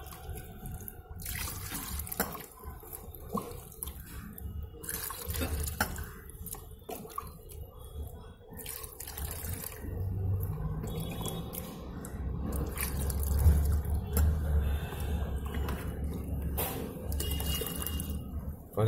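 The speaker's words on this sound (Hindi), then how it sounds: "पानी को भरना है ट्रे में।" Water runs and splashes as it is poured into a tray during refrigerator brazing repair work, a steady trickling and dripping that continues throughout with occasional louder splashes.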